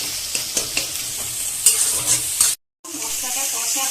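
Spice paste with onion and tomato is being sautéed for a chicken dish, with a steady sizzle and frying hiss while a spoon scrapes and stirs in irregular strokes, then a brief silence before the sizzling resumes.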